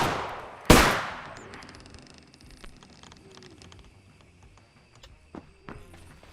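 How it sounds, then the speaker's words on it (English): A single sharp video game gunshot cracks loudly near the start, fired into the air or the trees while hunting for Bigfoot, then fades into quiet ambient clicks and faint scattered sounds. "I'm just shooting aimlessly in the air or the trees"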